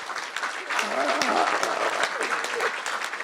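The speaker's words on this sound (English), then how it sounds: "You guys deserve a round of applause" An audience at a book Q&A event claps in steady, full applause for a few seconds, a close, even patter of many hands.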